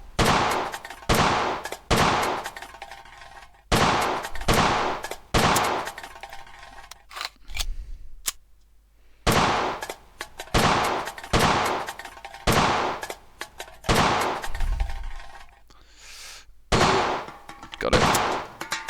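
Gunshots in the World of Guns video game strike tin cans as targets, about a dozen sharp loud reports with metallic clangs spaced roughly a second apart, with a short pause midway.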